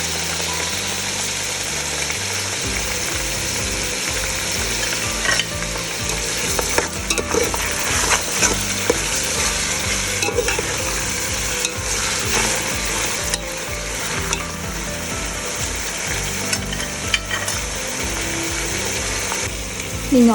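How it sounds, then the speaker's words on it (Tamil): Onions sautéing in a pan for chicken biryani, a loud, steady sizzle and fry close up, with occasional stirring clatter running throughout and no talking. "நீங்கள் ஆனியன் சாட் பண்ண தான் ரொம்ப லேட் ஆகும்"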